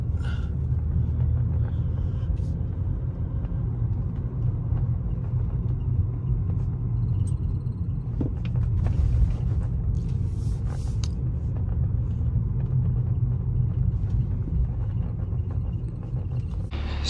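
A car drives into the back lot of an auction venue. From inside the vehicle it sounds like a steady, low engine and road rumble, with faint knocks and rattles.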